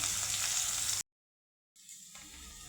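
Chopped onion with garlic frying in a pan for a beetroot and carrot soup, a bright steady sizzle that cuts out briefly, then returns softer and continues.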